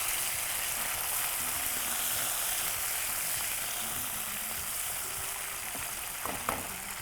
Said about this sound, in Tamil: ஏலக்காய், கருவேப்பிலை, புதினா, கொத்தமல்லி இதை போட்டு நம்ம வதக்கலாம்.